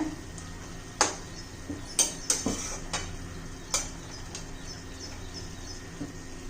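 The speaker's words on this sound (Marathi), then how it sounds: "पण त्यात आता कोथिंबीर घालून घेऊया व्यवस्थित मिक्स करूया" Cauliflower curry being mixed with fresh coriander in a pan, heard as a few scattered light clinks and scrapes of a spoon against the metal, soft and close against a quiet room.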